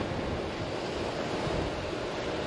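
Wind rushes steadily through a canal lock chamber on a boat trip between Fulton and Oswego, New York, a dense, continuous roar with buffeting on the microphone and no voices.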